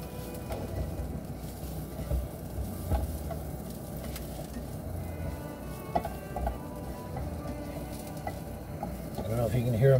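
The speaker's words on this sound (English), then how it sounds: "they just get them a little bit of a sizzle, roll them over a bit, and get them all softened up" Wild foraged greens sizzle and fry in a pan, a steady close crackle running the full length with occasional stirring knocks and a slight swell near the end, no voices.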